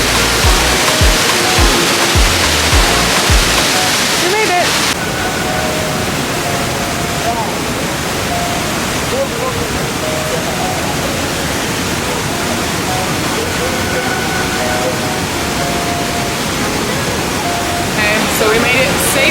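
A waterfall in the Kilimanjaro area of Tanzania roars as a steady, loud, dense wash of falling water. A brief rougher handling rumble comes at the start, and the rush continues unbroken to the end.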